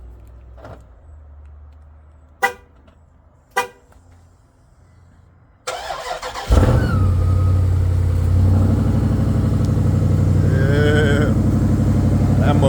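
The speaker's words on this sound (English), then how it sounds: "haven't started this truck up probably about a week and a half" A truck that has sat unused for about a week and a half cranks and fires up, settling into a loud, steady idle. Faint background noise and a couple of sharp clacks come before it, and no one speaks.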